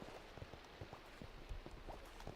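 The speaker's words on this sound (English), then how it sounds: "Oh, it's raining." Rain in the Minecraft video game patters faintly and steadily, with scattered soft droplet ticks over a quiet continuous hiss.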